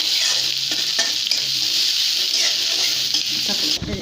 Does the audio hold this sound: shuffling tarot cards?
no